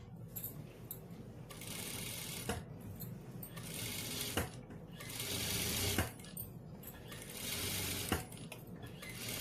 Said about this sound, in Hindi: अब इसके बिल्कुल बुकरम के बिल्कुल पास पास आपको सिलाई लगाती चली जानी है।